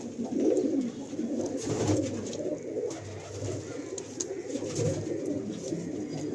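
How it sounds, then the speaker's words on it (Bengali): Pigeons in a racing loft coo in soft, repeated throaty rolls, several birds overlapping in a low continuous murmur with occasional wing flutters, close and fairly quiet. "কিছু পায়রা রয়েছে"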